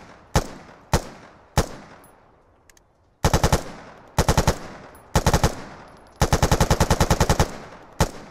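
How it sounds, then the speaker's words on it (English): XM8 rifle fire in the NIArms game mod, heard as three single shots, then several short bursts and a longer burst, loud and sharp with quick decays. "So the XM8 uses the same audio as the G36"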